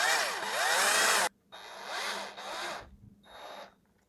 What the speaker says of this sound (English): take one of the M4 by 50mm bolts and screw it all the way through